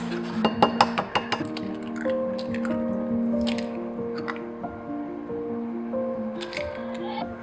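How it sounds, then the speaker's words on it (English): Milk and eggs go into pumpkin puree in a large measuring cup: a few sharp clinks and taps early, then wet squishing and dripping under a steady background hum, close and fairly quiet. "Add 3/4 cup of milk, 4 eggs,"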